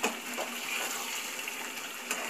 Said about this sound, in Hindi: थोड़ा सा पानी डाल देते हैं